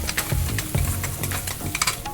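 A spoon stirs a dry spice mixture with turmeric in a pan, giving a continuous close scraping and rustling with short sizzling crackles and regular strokes.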